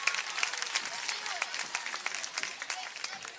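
A crowd applauds senior girls' golf team members at a high school football game, steady outdoor clapping heard faint and somewhat distant, with scattered voices mixed in.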